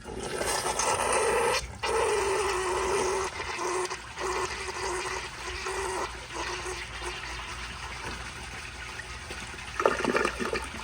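A 2010 American Standard Baby Devoro toilet flushes a bowl loaded with dirt and rocks, giving a loud, close, steady rush of water that runs for several seconds with a brief dip and a gurgling surge near the end.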